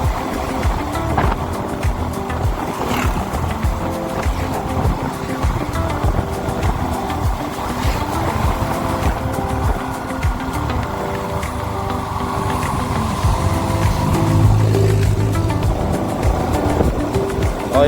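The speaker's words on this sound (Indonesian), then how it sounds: "Pakai motor Jupiter si merah ya, tahun 2013 guys." A red 2013 Jupiter motorcycle rides along a good road in cool weather near Sumedang, its engine a steady close drone with rushing wind noise throughout.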